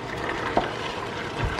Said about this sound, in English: this is our chicken still cooking